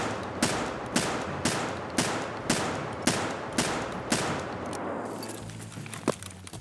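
Gun firing .50 BMG slugs in a video game, about ten heavy evenly spaced shots roughly half a second apart, loud and close, then a few scattered quieter impacts.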